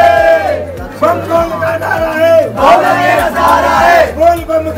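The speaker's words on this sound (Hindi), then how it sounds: "देख रहे हो कितनी पीछे तक भीड़ है" A large crowd queuing at Nilkanth temple in Rishikesh, a loud, continuous mass of voices and shouts with rising cheers, chanting bursts and steady babble throughout.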